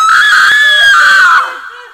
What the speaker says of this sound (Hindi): उसने एक भयानक चीख